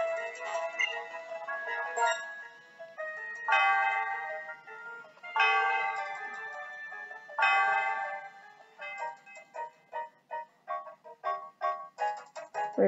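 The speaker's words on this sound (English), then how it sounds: "Okay, I'll go ahead and ring the bell." Chiming bell tones from the Celestial Tower in Pokemon Black and White ring in bright, melodic phrases, swelling and decaying, then break into quicker repeated strikes toward the end.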